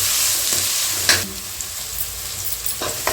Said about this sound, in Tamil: கருவேப்பிலை கொஞ்சம் சேர்த்துடலாம். சேர்த்து நல்லா வதக்கலாம்.